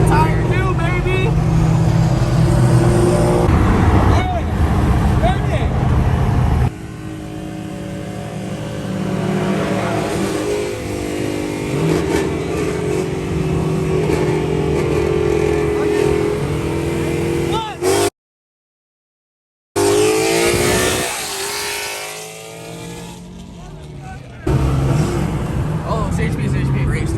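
A BMW M6 accelerates hard while street racing. The engine roars loudly and steadily close up, with a brief dropout partway through and a surge afterward. Voices can be heard over the engine noise.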